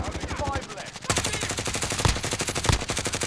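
Rapid automatic gunfire in Modern Warfare Warzone, a steady stream of close, sharp shots running the whole stretch with a few heavier impacts, while a voice speaks briefly underneath.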